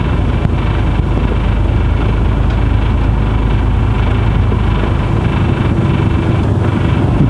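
A car rolling slowly around a parking area, heard from inside as a loud, steady engine and road rumble with heavy wind buffeting the microphone, and no voices.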